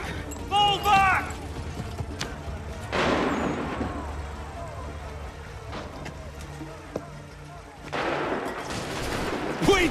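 Musket gunfire in a battle from Assassin's Creed 3, with bursts of volley fire and rumbling cannon-like booms around a steady din of combat, while shouted voices are heard early on.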